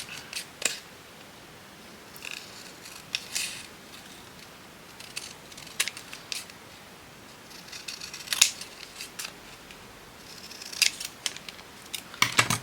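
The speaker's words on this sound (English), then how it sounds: "we're going to cut around it" Scissors cutting around a paper journal piece, with close, crisp snips coming in irregular bursts across a quiet room and no talking.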